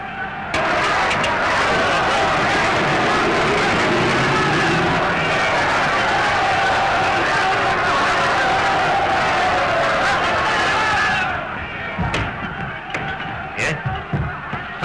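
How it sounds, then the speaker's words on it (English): An excited crowd roars outdoors in a steady, loud wash of cheering and shouting that runs for about eleven seconds, with a car engine mixed in, then fades into a few scattered knocks and bangs. "The crowd outside are in a terrible state of excitement."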